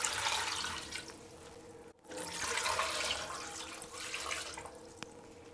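About 1.5 litres of water poured into a pot of chicken necks for stock, a steady splashing rush from close by that stops for an instant and then carries on.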